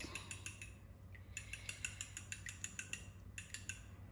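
Eggs are beaten with a utensil in a small container, giving quick rhythmic clinks in three bursts separated by short pauses, close and fairly loud over a low steady hum.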